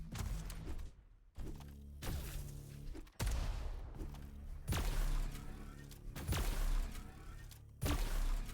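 Grenade blasts and weapon fire in the arena shooter Diabotical come as a series of sharp bursts, each decaying into a broad wash before the next hits, loud and repeated over several seconds.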